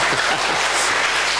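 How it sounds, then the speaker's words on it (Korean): An audience at a church gathering claps together in thanks after a shared meal, a dense, steady wash of applause filling the short moment without any voices over it. "박수 한번 칠까요?"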